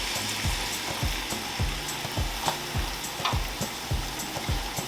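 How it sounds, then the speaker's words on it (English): Onions frying in an oiled pan over low heat for a mushroom and pea risotto, giving a steady close sizzle with regular clicking stirs or taps against the pan and no talk. "So now that our pan is heated up, we're going to add our onions."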